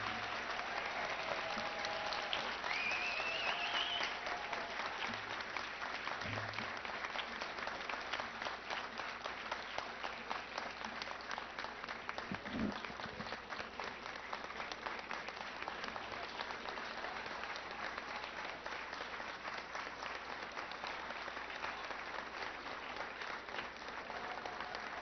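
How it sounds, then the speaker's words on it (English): Sustained applause from a large audience at a school awards ceremony, honouring the students, a long, even roar of clapping that stays loud and unbroken throughout. "How about one final round of applause for all of our students?"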